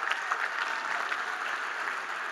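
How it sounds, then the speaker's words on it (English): Steady applause from an audience at an awards gala fills the room continuously for a couple of seconds, a dense wash of many hands clapping with no talk over it. "Let's give them all a round of applause."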